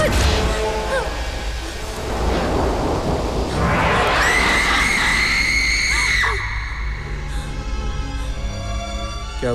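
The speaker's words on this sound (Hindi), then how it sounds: "तुमने वो चीखने की आवाज सुनी?" A woman screams in a Hindi thriller film during a stormy night, a long piercing rising cry heard over heavy rain and rolling thunder, loud and close.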